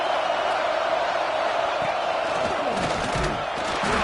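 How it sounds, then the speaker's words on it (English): Football stadium crowd at a Nebraska–Texas game roaring steadily and loudly for the defense during a red zone stand, a dense sustained wall of cheering and shouting with a brief surge near the end. "here comes the noise. This crowd is trying to inspire this defense to make a big red zone stop."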